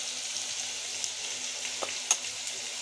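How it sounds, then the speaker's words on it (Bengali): Potato pieces fry in hot oil with turmeric for a dhaba-style paneer masala, producing a steady, close sizzle with a few faint stirring clicks and no speech. "আমি আলুগুলো ভেজে নেব লাল লাল করে। আমি আলু ভাজাতে দিয়ে দিচ্ছি হলুদ,"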